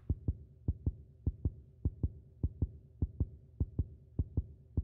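A steady heartbeat effect from the horror game Neighbor Next Door thumps in low, paired double beats, about a dozen pairs at an even pace, soft and unaccompanied.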